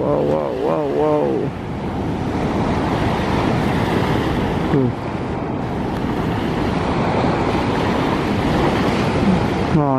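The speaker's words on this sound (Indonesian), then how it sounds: "Wih, ombaknya luar biasa tuh. Ombaknya tinggi." Ocean waves crash steadily onto a beach in a constant broadband roar with wind buffeting the microphone, while voices speak briefly over the surf.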